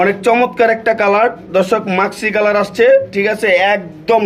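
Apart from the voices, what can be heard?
No everyday noises stand out.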